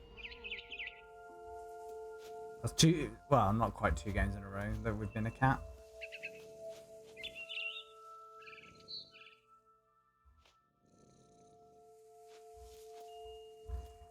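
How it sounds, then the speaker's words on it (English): Short bursts of barn swallow chirping in the video game What Remains of Edith Finch come and go, first alone and then faintly beneath a person talking, with soft footsteps and ambient hum throughout. "It was a barn swallow going back to her nest."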